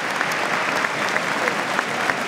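An audience at an esports event applauds two players, steady dense clapping filling the hall with a few sharper claps popping out, no talk on top.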